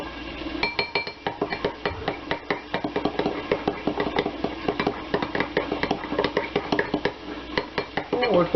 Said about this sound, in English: I'm actually going to try to whisk this with a spoon